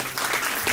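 A short burst of audience applause at a retirement function, dense clapping from a crowd heard briefly and fairly loud.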